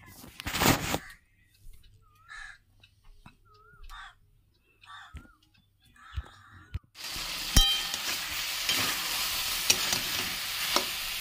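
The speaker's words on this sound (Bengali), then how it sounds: "ডালিয়ার সবজিগুলো ভালো করে ভেজে নিচ্ছি" Vegetables for dalia hit a hot pan with a sudden loud sizzle. Steady frying then continues after several seconds of sparse kitchen clatter and soft clicks.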